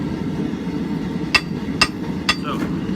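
Hand hammer blows on hot steel while doming the face of a forged rounding hammer, three sharp ringing strikes spaced about half a second apart, with a faint fourth tap, over low background hum.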